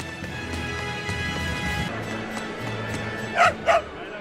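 A dog in the Tales of Berseria video game gives two quick yipping barks close up near the end, after a stretch of in-game music and ambience.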